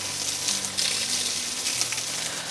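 Water pours and gushes steadily over plants outdoors, a continuous hissing splash, close and fairly loud, with no talk.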